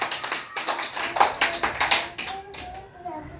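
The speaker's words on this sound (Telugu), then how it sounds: "క్లాప్స్ కొట్టండి వాడికి" A group of children clap for a classmate in a classroom, a quick run of sharp, close hand claps that fades out, followed by a faint voice.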